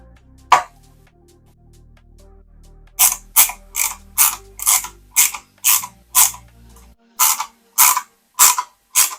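A small screwdriver drives screws into a die-cast Toyota Supra MK4 model kit, making a close, crisp ratcheting click that repeats about a dozen times in a steady rhythm after one earlier snap.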